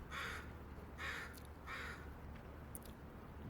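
Three harsh caws from crows, evenly spaced about a second apart, fairly faint over a low rumbling background.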